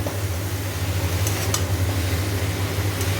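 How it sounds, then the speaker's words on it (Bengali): Shredded cabbage frying in a pan as a vegetarian dish, a steady low sizzle with soft scraping of stirring throughout, close and continuous with a few faint clinks. "বাঁধাকপি দিয়ে দিয়েছি সব। এবার আস্তে আস্তে এটাকে ওপর নিচ করে নাড়তে হবে।"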